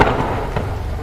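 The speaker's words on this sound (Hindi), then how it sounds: "तभी वहां मूसलाधार बारिश शुरू हो गई।" Heavy downpour of rain in a dark night setting, a dense, steady broadband wash of falling water with a soft thud near the start, continuous and fairly loud throughout with no voices.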